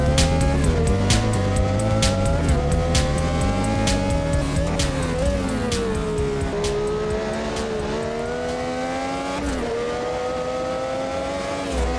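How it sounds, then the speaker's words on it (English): A Brabham BT46B fan car, a banned Formula 1 car, racing on track in a video game: a loud, continuous high-pitched engine wail that climbs and drops with gear changes, with no talking. "Just had enough real estate there to keep the car on the track ahead of Peterson"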